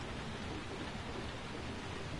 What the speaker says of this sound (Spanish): Es que no para de llover, ¿eh?